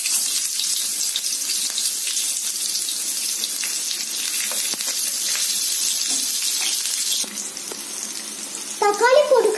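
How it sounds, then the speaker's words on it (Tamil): Chopped onion frying in hot oil for a drumstick leaf soup gives a steady, close sizzle that runs throughout, ending with a short burst of voice. "ஆயில் சூடானதும் நம்ம ஆனியன் போட்டுக்கலாம்."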